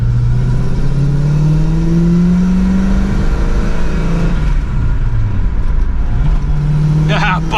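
Car engine cruising on the road, a steady droning hum with pitch rising and falling through gear changes, loud and close from inside the cabin, with a voice talking over it.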